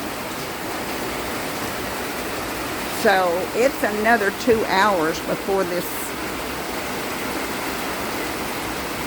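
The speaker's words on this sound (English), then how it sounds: "I mean, it's heavy, heavy rain." Heavy rain falls steadily around a mobile home during a teardown, a constant dense hiss throughout, briefly under someone speaking in the middle.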